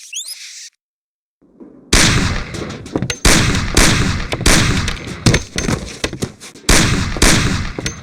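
Loud, close pistol shots in the video game Mafia ring out one after another at cans on a table, each crack trailing into a short echo, with a brief silent gap early on.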